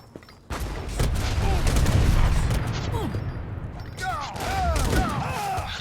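Cannon fire from the strategy video game Age of Empires III bursts in a dense volley of booms and crackling battle noise, loud and continuous throughout the fight.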